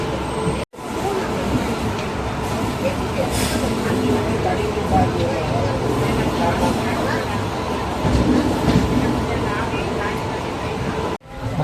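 The Cheran Superfast Express train moves at night out of Chennai Central, with a steady, continuous rumble and rolling noise throughout, heard from on board or close by.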